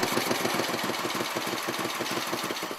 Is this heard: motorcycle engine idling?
yes